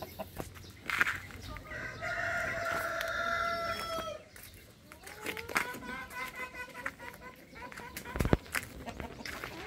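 Backyard chickens cluck close by and a rooster crows loudly in a long, drawn-out call, with more clucking and scattered noises afterward and people talking over it.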